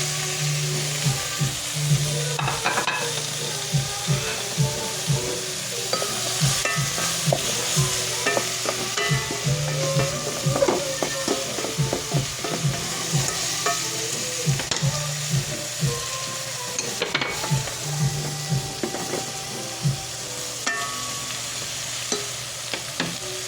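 Shrimp and sponge gourd are stirred in a sizzling pan, with steady frying hiss and repeated spatula scrapes and knocks in an uneven rhythm, close and fairly loud throughout.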